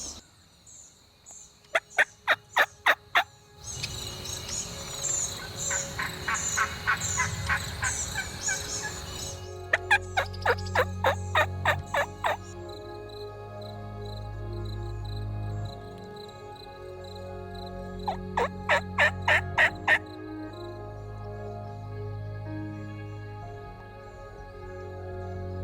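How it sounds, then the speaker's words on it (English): Repeated bursts of wild turkey gobbling from the roost in the morning, loud rattling calls echoing several times over a steady outdoor background with other birds. "we've heard one bird gobble so far on the roost"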